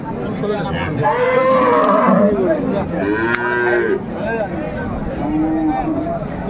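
Dairy cows moo loudly and close by at a cattle market, several long drawn-out calls one after another, with people talking in the background.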